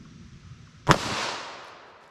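.38 Special standard-pressure round fired into denim and ballistic gel backed by fiberboard: one loud, sharp gunshot cracks out of near silence and leaves a short, fading ring.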